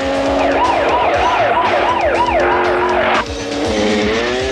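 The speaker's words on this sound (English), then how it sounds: "driving the police car chasing Sylvester Stallone" A police car chase in a stunt scene, with a wailing, rising and falling siren over a loud roaring engine, tyres skidding, and a sudden shift partway through as the car noise changes; no talking.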